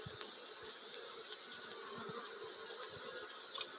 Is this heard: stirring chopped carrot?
no